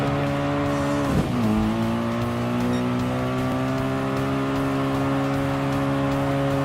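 A racing car in Gran Turismo Sport holds a steady, droning engine note, which dips briefly as the car shifts or brakes and then settles back to a sustained whine, loud and continuous.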